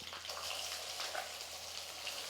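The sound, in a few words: ground coconut paste frying in oil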